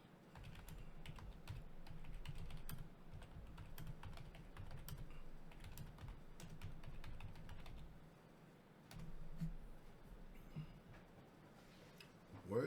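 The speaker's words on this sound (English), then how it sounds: "Let me type this in real quick." Rapid typing on a computer keyboard, a steady patter of small clicks running throughout at close range, with a low background hum and a brief pause before the keys resume.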